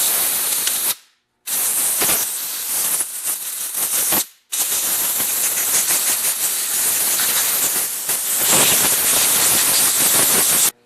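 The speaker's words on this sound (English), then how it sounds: "I'm going to air blow all the dirt off the carburetor" Compressed air blasts dirt off a Walbro model HD carburetor from a Jonsered 2071 chainsaw: loud, close, steady hissing rushes in long bursts, with two brief pauses between them.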